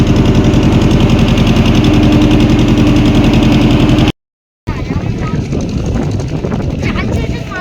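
A ferry boat engine running loud and steady with motorbikes aboard, a rumbling drone that drops out briefly, then resumes more roughly under people talking.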